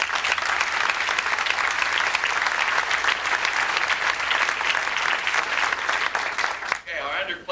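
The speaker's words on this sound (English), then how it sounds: "they deserve a nice round of applause" A large audience at a 2000 winter sports awards ceremony applauds basketball players, steady dense clapping filling the room for about seven seconds before thinning out as a voice begins to speak.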